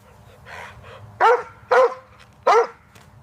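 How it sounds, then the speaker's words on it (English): A dog gives three loud, sharp barks in an even rhythm, close and clear over faint background noise. "It's a dog."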